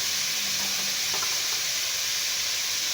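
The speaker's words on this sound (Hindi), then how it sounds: "अब इसको अच्छी तरह भूनेंगे" Chicken pieces seasoned with garlic powder fry in a pan with a steady, loud, broadband sizzle, plus a few faint clinks of stirring early on; no voices.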